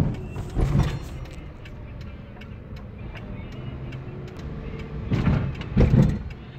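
A 2015 Hyundai Eon taxi running on petrol and gas, started on its self-starter: two loud bursts of engine and mechanical noise separated by a quieter idling stretch, close by.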